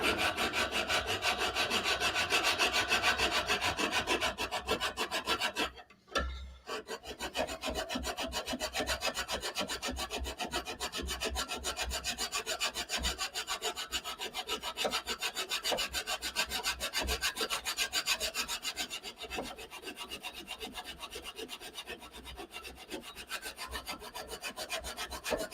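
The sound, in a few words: draw filing a stiletto dagger guard with a first-cut file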